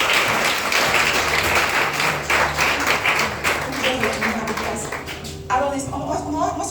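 A church congregation applauding the Lord at a French-language service, a loud, dense wash of clapping that fades toward the end as a voice begins speaking.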